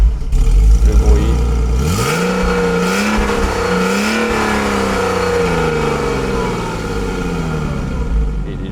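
A 2003 Porsche Boxster 986 flat-six starts with a low rumble, then revs climb and settle into a steady, loud idle with rich harmonic drone close up.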